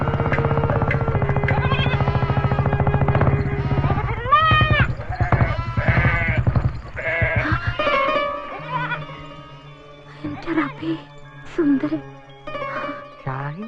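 Goats bleat in wavering, nasal cries during a scene in a Malayalam film, heard among people talking and a sustained musical tone.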